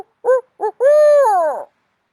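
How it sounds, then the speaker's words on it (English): An owl calls in a rhythmic 'who cooks for you' pattern: two short hoots followed by a longer drawn-out descending hoot, close and loud against silence. "these guys have a call that sounds like somebody saying, who cooks for you, who cooks for you all"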